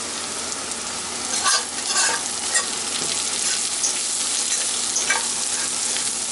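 A rib eye steak cooks in a cast iron pan, a loud, steady sizzle with crackles and a few soft scrapes and bumps throughout.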